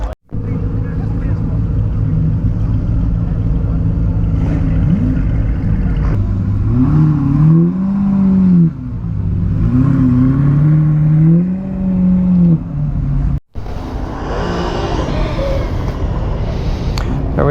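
Vehicles rev their engines loudly as they leave a car cruise, with rising and falling revs, a sharp cut and a fresh burst of engine noise near the end. Voices are faint underneath.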